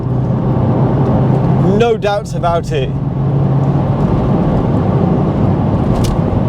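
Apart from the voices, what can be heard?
Porsche 911 Turbo 997 cabriolet engine driving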